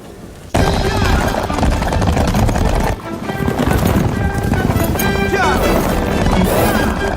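Rhythmic hoof clip-clops run steadily beneath a loud, continuous music score, with a brief dip partway through.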